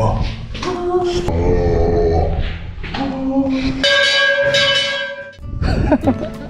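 Bell rung at a misty Alps viewpoint on a plateau walk, sounding several bright ringing strikes with lingering tones, heard alongside voices and echoing talk.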